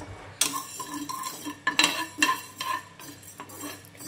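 Fenugreek seeds being lightly dry-roasted in a pan, stirred with a spoon that scrapes and clinks against the metal in an irregular, close rhythm with faint rattling of seeds.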